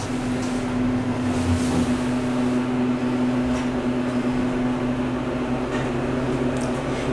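Nashville Machine impulse hydraulic elevator at a Super 8 by Wyndham in Crossville running, a constant loud low pump hum with a steady tone and faint rattles, no speech.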